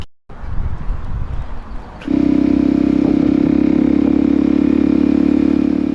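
A Yamaha YZ 6R or Kawasaki DRZ 400 motorcycle on a neighborhood ride in Salt Lake City; after a couple of seconds of rustling, a close engine rumble kicks in and holds a steady, loud, even drone.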